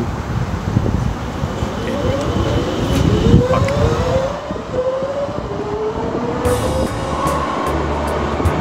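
A metro train in Amsterdam rumbles and rattles along the track, with rising motor whines as it accelerates and a steady clatter of wheels beneath.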